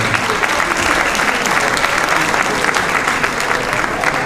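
At a fashion show, an audience applauds loudly and continuously, a dense wash of many hands clapping close and full for the whole stretch, with faint crowd murmur beneath.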